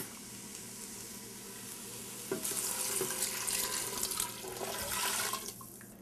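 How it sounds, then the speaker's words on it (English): Broth pours into a pot for chicken soup, splashing onto already-sizzling chicken, a steady close liquid rush that swells midway and then tapers, with no talk. "And then I'm going to add my broth"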